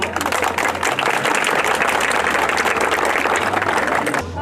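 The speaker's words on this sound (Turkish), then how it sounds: "Herkesten güçlü bir alkış istiyoruz." A crowd at a mass circumcision celebration in Osmaniye, Turkey, applauds steadily, a dense wash of many hands clapping at once that carries on throughout, with a low hum underneath.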